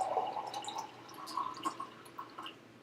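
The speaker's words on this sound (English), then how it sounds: "We'll pour the tea over it and then pour it over ice" Jasmine tea poured over peach puree in a glass, a faint trickling and dripping liquid sound with a few small splashes, quiet and close.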